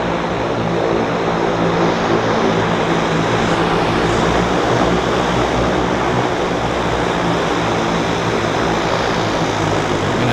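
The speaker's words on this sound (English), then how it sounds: "We're going to have a double takeoff here." Propeller floatplanes take off at Vancouver Harbour airport, a continuous loud engine roar and propeller drone filling the whole span, with water and wind noise beneath and no speech.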